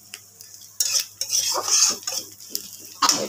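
A spatula stirs greens with dried chili in a pan, making repeated clattering, scraping knocks against the metal under a faint background hiss.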